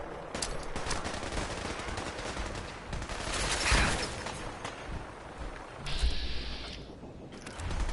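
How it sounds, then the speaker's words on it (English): Rapid automatic gunfire rattles through a Fallout 4 firefight, dense overlapping bursts of shots running almost continuously, with a louder burst near the middle and a mechanical clatter toward the end. "Okay, they're shooting people."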